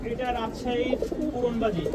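Rajshahi flying-breed pigeons cooing at close range, a soft, continuous throaty murmur running through the whole moment, with people talking over it.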